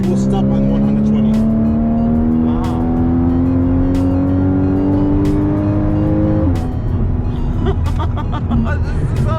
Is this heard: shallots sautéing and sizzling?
no